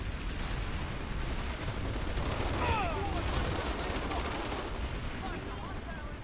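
Continuous rapid gunfire from Planetside 2 combat rattles on without pause, a loud dense stream of overlapping shots with a faint voice briefly cutting through the racket.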